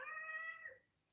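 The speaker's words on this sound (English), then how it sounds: "Does Lucky Cat want to say hello to everybody?" A house cat gives a single drawn-out meow, clear and close, with a rising, wavering tone that fades into quiet.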